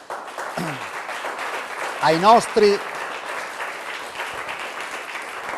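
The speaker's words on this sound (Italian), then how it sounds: "Facciamo un applauso" A studio audience on an Italian TV show applauds steadily while a voice speaks briefly over the clapping in short bursts.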